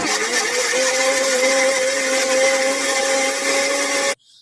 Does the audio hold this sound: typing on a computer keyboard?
no